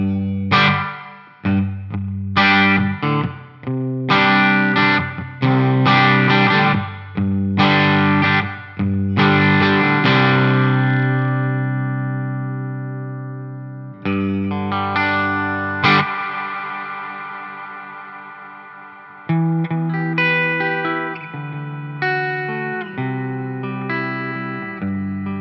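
Electric guitar through a NUX Atlantic delay and reverb pedal with the decay set all the way down, playing loud distorted chords and notes that cut off fairly short with little trailing echo, no talking.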